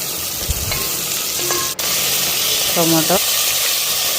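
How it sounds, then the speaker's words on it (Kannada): Mustard seeds and cumin crackle and sizzle in hot oil as a steady frying hiss, with a few stirring clinks and a short vocal sound partway through. "ಮೊದಲಿಗೆ ಎಣ್ಣೆ ಸಾಸಿವೆ ಜೀರಿಗೆ ಹಾಕಿನಿ"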